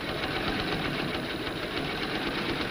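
A sewing machine top stitches close to the seam line through a bodice and its pressed-up seam, giving a steady, dense mechanical whir that runs without pause under heavy background hiss, with no talking.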